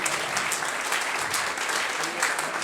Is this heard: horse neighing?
no